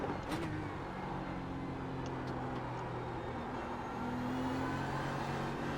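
A GT3 race car engine in iRacing at Spa drones steadily at moderate volume, holding a sustained tone with slight pitch shifts as the car rolls through the circuit.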